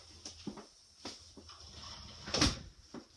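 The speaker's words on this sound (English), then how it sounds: "I'm going to close the door." A door is closed indoors with a few soft knocks and rattles, then a louder thud near the end, all fairly quiet with no talk.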